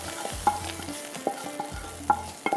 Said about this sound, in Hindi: मक्खन का ज़बरदस्त किस्म का तड़का जो लगेगा यहाँ पर दाल के ऊपर